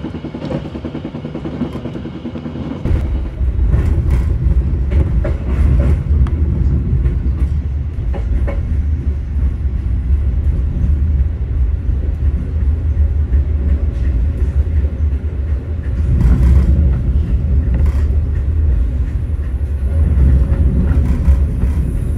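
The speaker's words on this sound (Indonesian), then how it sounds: "Yang menjalani kereta api Matarmaja telah tiba di stasiun Solo Jebres" Matarmaja passenger train running on rails between Jakarta and Malang, a loud continuous rumble with rhythmic clickety-clack of wheels over rail joints, heard from inside close up, swelling in intensity partway through.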